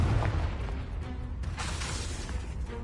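A Confringo fire-blast spell explodes in Hogwarts Legacy: deep booming bursts over a rumbling game backdrop, with the sharpest blast about halfway through.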